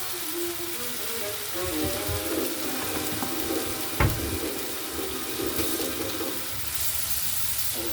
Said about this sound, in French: je ne vais pas le mettre pur, j'y mets un chouïa d'eau.